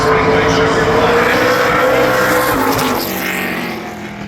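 An ARCA Menards Series race car laps Berlin Raceway in qualifying, its engine a loud, steady roar that holds, then eases slightly as it moves away, with a commentator talking over it.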